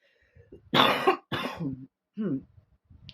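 Several coughs close to the mic: two strong harsh bursts, then a shorter throat-clearing cough and a faint one at the end, with silence between them.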